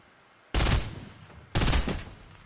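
Automated turrets firing in a video game, two sustained loud bursts of rapid gunfire, each lasting about a second, close and dominant with no talk.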